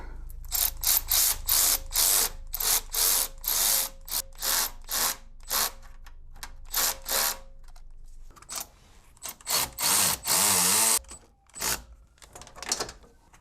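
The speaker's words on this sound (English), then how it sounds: "let's go tighten these clamps here." Hose clamps on a BMW E90 intercooler being tightened, a close run of evenly spaced sharp ratcheting clicks that gives way to a louder, scraping burst of tool and metal handling.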